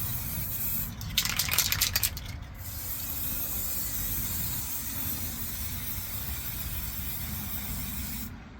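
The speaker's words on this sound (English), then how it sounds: "This is really my first time spraying a solid color with tropical glue" An aerosol spray can applying a solid color of paint to lowrider bicycle parts gives a hissing burst about a second long, with a brief rattly sputter, over a steady loud background roar outdoors.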